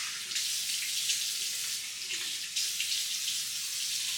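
A bathroom tap runs steadily into a sink while water is splashed to rinse a face, a continuous close hiss with small bursts of splashing and no talking.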